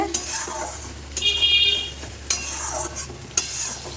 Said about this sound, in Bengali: এখানে ফুলকপি রোস্টটা করা হচ্ছে